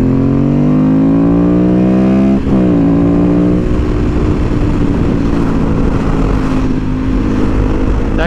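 Ducati Monster S2R 800 motorcycle accelerating onto a freeway, engine note rising through a gear then dropping at a shift before climbing again under steady wind roar, loud and close.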